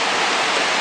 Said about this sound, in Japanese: すごい滝です本当にね